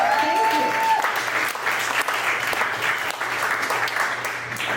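Audience applause fills a comedy theater, even and sustained, with a brief sung or voiced tone at the very start.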